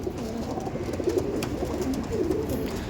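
Several aggressive pigeons coo in a loft, low murmuring calls overlapping continuously at close range with no talk.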